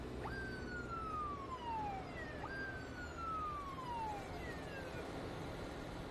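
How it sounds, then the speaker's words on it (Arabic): A police car siren wails in traffic, two falling sweeps in a row at moderate distance over a constant low rumble of engines and road noise. "اطلع هذا سيارة الشرطة"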